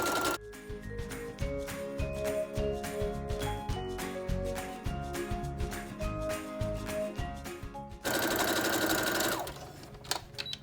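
Sewing machine stitching a seam on a small dog dress, a fast rhythmic mechanical whir running for about eight seconds, then stopping as a brighter rustle of fabric and thread takes over.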